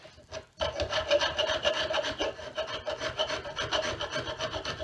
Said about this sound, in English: Grab spoke shave